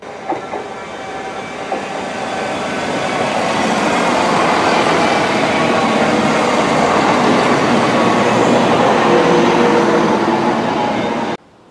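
A train rolls past near the Forth Rail Bridge at Dalmeny, building from a distance to a loud, sustained rumble with rail clatter and faint wheel squeal, then cutting off suddenly.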